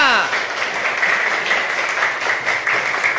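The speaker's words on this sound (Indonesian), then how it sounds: "Terus tepuk tangan terus." Students clapping hands together during an ice-breaking exercise in a junior high school arts class, a continuous, steady patter of many hands heard under a talking voice.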